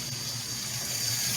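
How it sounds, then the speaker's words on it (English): A kitchen tap runs in a continuous steady stream, close and even, with no talking over it. "So turn this water off."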